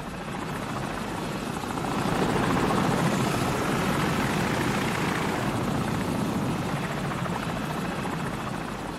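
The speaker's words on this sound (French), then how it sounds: "Hélicoptère ennemi, baissez-vous." An enemy helicopter in Call of Duty Modern Warfare, its steady rotor thrum and engine roar swelling slightly louder in the middle as it passes, continuous with no voices.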